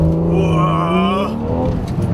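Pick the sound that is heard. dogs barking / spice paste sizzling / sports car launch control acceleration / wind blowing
sports car launch control acceleration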